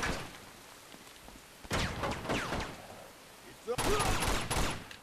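Heavy gunfire and explosive tank blasts in Uncharted 2: Among Thieves, arriving in loud bursts with quieter stretches between, close and harsh.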